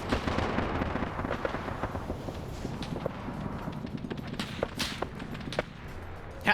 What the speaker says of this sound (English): I think that's the L-39 firing.